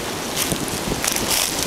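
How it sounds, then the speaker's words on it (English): Cold winter wind blows across the microphone on a snowy wooded trail near a spicebush stand, a steady rushing roar with gusty surges, with no voices. "Cold and windy, a little bit of snow."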